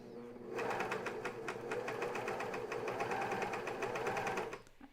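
A fast coverstitch sewing machine runs steadily while hemming a pajama top, a loud, close, continuous rapid needle clatter that starts abruptly and keeps an even rhythm for several seconds before easing off.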